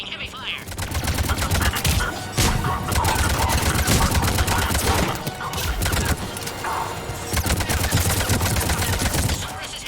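Heavy gunfire from a Mass Effect 3 firefight, with Cerberus forces attacking a landing area. Rapid, dense bursts and impacts run nearly continuously and loud throughout, alongside crashing hits.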